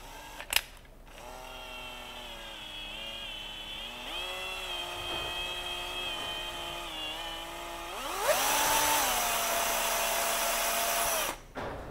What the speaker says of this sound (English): You just got to very gently and very slowly drill this out.